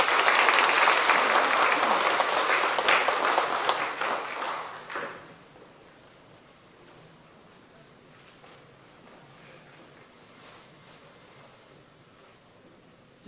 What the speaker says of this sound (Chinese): 我们再一次拍手欢迎他们